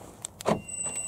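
Car being locked with its key in a dark forest at night: a short electronic lock chirp and a thump of the central locking actuators, followed by a thin steady high tone, heard alone at close range.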